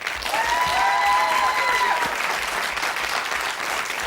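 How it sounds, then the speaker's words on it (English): A television quiz show studio audience applauds as a new contestant comes on, producing a steady wash of clapping that carries on throughout, while a bright electronic tone sweeps through it near the start. "give a big round of applause, please,"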